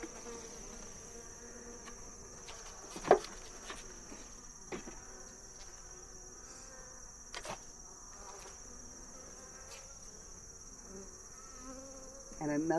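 Honeybees in a small hive give off a steady, close drone of buzzing, with scattered knocks and handling clicks from the hive box and a louder bump near the start and end.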